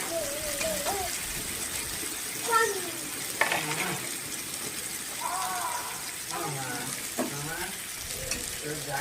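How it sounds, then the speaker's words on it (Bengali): Fried potatoes are tipped into a pan of gravy in a village kitchen and stirred, giving a bubbling sizzle with scraping and a few pan knocks, while voices and birdsong carry in the background. "আলুটা দিয়ে দিচ্ছে, ফ্রাই আলুটা দিয়ে দিচ্ছে।"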